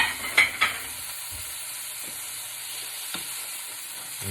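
Sausages sizzle in a frying pan with a low, even crackle, punctuated early by a couple of clinks from a utensil.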